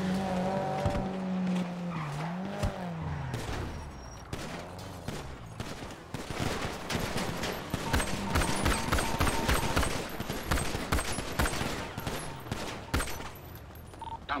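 Car in GTA roleplay driving hard with rising, swooping engine tones and squealing, skidding tires, giving way to dense rapid bursts of gunfire and impacts in a loud, continuous chaotic stretch.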